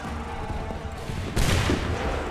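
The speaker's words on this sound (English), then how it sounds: "Wait for the signal. Fire!" Musket volley from a line of soldiers in the Assassin's Creed 3 game: a loud, dense burst of simultaneous shots that erupts after a short stretch of busy battlefield noise and lingers as a rumbling wash.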